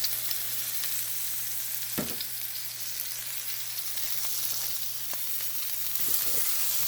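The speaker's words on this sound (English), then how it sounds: "now we flip the burgers" Angus beef burgers fry on a hot pan beside sautéed mushrooms with teriyaki sauce, giving a steady, even sizzle throughout with a few brief clatters of a spatula or utensil.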